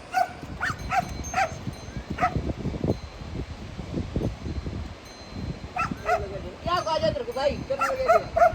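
Dog barking somewhere along a mountain trekking route near Manali: a few short yips and barks, moderately distant, over outdoor rustle and wind, while people talk nearby.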